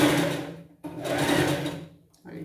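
A sewing machine stitches a pet costume in two bursts of fast whirring separated by a brief pause, close and fairly loud, with a short third start at the end.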